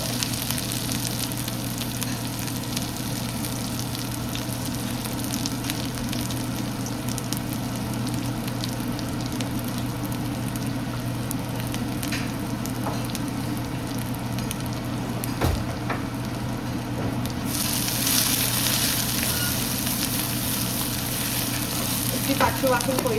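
Crushed garlic and cumin frying in oil for a mushroom pepper fry, a continuous close crackling sizzle that holds steady and grows slightly brighter toward the end.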